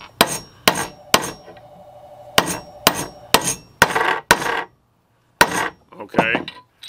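A driver hammers a bushing into the pump bore of a 727 automatic transmission, giving about ten sharp, ringing metallic strikes at an uneven pace, close and loud, with short pauses between blows.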